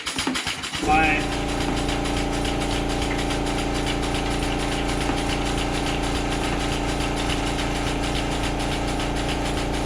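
An air compressor drives a pneumatic diaphragm pump drawing liquid ballast out of tractor tires, its steady, loud mechanical drone kicking in after about a second and running on without a break.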